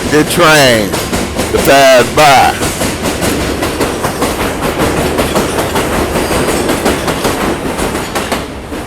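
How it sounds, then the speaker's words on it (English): A train rolls past close by with a steady rumbling clatter of wheels on rails that fills the whole stretch, while someone talks briefly over the start. "We wait for the train to pass by."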